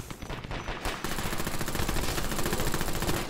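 Rapid automatic gunfire from the online shooter game Dirty Bomb, a fast close rattling burst after a brief pause that keeps going continuously and loud to the end.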